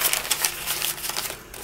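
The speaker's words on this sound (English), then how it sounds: "Make the whole paper into a tube." A sheet of paper is rolled into a tight tube by hand, producing a continuous close crinkling and rustling that stays loud throughout, with no voices.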